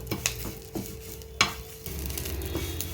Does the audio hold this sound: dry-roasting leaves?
yes